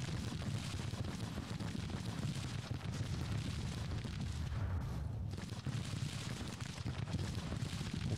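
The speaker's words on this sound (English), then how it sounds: "We'll keep firing the artillery out over here" Continuous rumbling battle din from Grand Tactician: The Civil War, with artillery fire booming steadily across the field, dense low-end thuds blending into a sustained roar without clear gaps.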